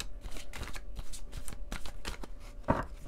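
Tarot cards being shuffled and pulled from the deck: a steady run of close, papery riffling and slapping bursts with a sharper snap near the end, no voices.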